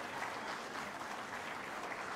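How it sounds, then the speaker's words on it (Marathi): Steady applause from a large audience at a Maratha Seva Sangh convention, a dense continuous wash of clapping that holds evenly throughout. "वाजवा टाळ्या"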